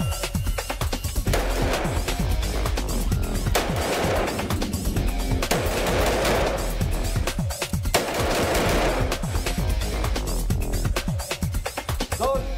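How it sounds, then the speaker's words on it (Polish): Rapid, sharp gunshots crack continuously in dense volleys, multiple rifles firing at once, loud and close with no pauses. "ćwiczymy strzelanie z prawego, z lewego ramienia"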